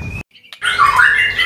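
A white-rumped shama (murai batu) songbird gives a clear short whistle, a brief pause, then a loud, close, harsh squawking call.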